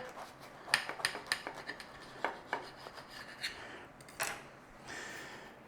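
A knife cuts through a crispy battered chip-shop fish butty, giving a series of close, dry crunches and scraping rasps in uneven bursts, fairly quiet, with no talking.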